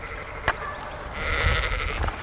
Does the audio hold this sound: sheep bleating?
yes